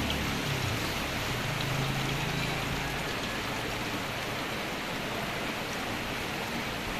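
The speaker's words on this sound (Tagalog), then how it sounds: "Yun, umuulan." Steady rain falls on a wet morning in a rural province, a dense, even hiss of drops on surfaces throughout, close and fairly loud, with no voices.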